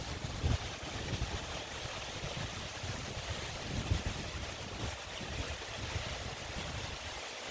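Water flowing through the Pintué estuary stream feeding Laguna Aculeo, a continuous soft rushing wash with gentle low gurgles, fairly faint and steady outdoors with no voices.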